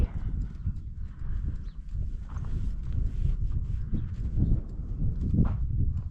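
A horse walks at a steady pace, its hooves clopping close and continuously over a low, rumbling wind-like background, with no talk.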